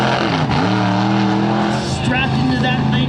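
A monster truck built on a trophy truck chassis roars across the tarmac at the California International Airshow in Salinas, its engine loud and droning with rising revs, while an announcer talks over the PA.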